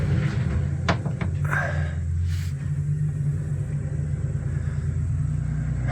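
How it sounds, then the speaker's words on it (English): An old Volkswagen Bay Window bus, a barn find, rolls along while a truck drags it, giving a steady low rumble with a droning engine hum, a few sharp knocks and creaks early on. "All right, bus is moving."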